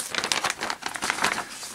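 Wrapping on a Kickstarter package crinkles and rustles as it is opened, a steady run of close, fairly loud crackling bursts with no talk over it.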